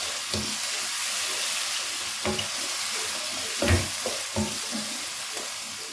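Chicken karahi mixed with yoghurt being stirred in a pan, a soft steady sizzle under repeated scraping strokes of a spoon against the metal, several louder clunks spaced through the stirring, no voices.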